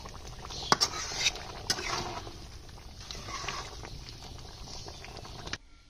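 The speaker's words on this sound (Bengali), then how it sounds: "এখন নেড়ে ছেড়ে নামিয়ে নেব।" Chicken curry being stirred in a cooking pot, with soft scraping and clinks of a spoon against the metal, a few sharper taps early on, over a low simmering bubble.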